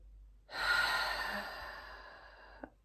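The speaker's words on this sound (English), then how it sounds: "You're going to take 3 deep breaths." One long, deep breath, drawn in and let out slowly during a calming relaxation exercise. It is soft and close, with a faint click at the end.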